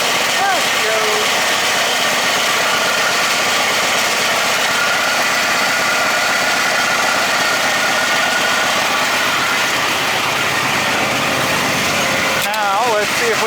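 A Poulan Pro engine runs continuously at a steady idle, a loud, close, droning rumble that holds unchanged for the whole stretch, with a brief shift near the end.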